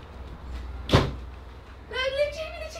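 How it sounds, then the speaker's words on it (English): A single sharp thud of a door shutting, followed by a voice speaking nearby. "Quick, close the door, keep the heat in."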